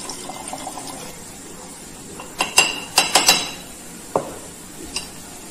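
Ethylenediamine solution poured into a glass flask in a lab, heard as a few sharp glassy clinks and taps, clustered together, close and clear over a quiet background.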